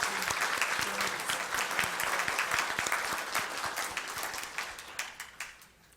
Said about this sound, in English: Please join me with a warm round of applause for these dedicated and newly elected volunteers.